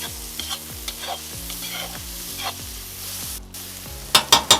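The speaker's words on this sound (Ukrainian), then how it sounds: "Тепер додаю гострий перець та салеру. Помішую все гарно." Close-up sizzling of garlic, chili and celery in a hot pan with a spatula scraping and tossing in a steady rhythm, ending with a few sharp clanks.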